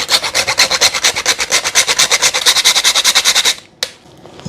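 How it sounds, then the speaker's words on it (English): Nutmeg is grated by hand in quick, even rasping strokes, about eight per second, bright and close, for around three and a half seconds before a few scattered taps. "I'm gonna grate 1 teaspoon of nutmeg"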